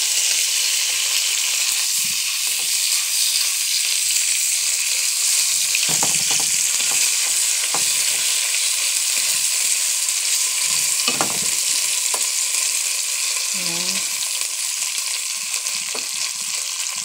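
Buro, fermented rice from Pampanga, fries in a pan with a steady, close hiss and crackle that runs throughout, with occasional scraping stirs and no voices.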